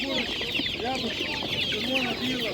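Chickens and laying hens at a rural animal market cluck and squawk in a busy, overlapping chorus close by, with brief rising calls repeating over a steady background of poultry noise.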